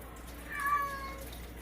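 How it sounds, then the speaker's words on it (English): A single cat named Joy lets out a drawn-out meow, faint and off in the background over a quiet room. "you hear Joy the cat in the background just being loud"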